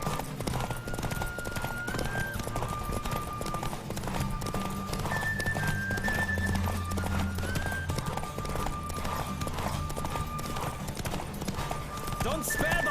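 Rapid hoofbeats of a horse galloping in a race in The Witcher 3, a steady drumming clip-clop carried under game music, with a whinny and a voice speaking over it.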